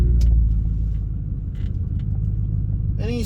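A 2004 Mercury Grand Marquis engine rumbles low and steady while driving, with a dense low-end drone and faint road noise throughout.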